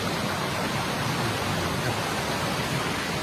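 Loud, steady rush of a forest stream near a waterfall in Chiang Rai, a dense unbroken roar of water that fills the whole scene close by, with no voices over it.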